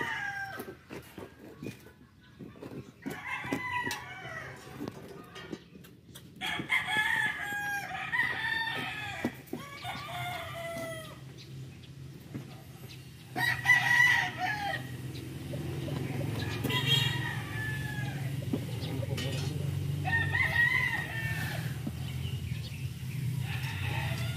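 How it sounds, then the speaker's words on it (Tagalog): A rooster crows a few times at a distance, mixed with clucking fowl and scattered background noise, while a low rumble builds toward the end. "May manok."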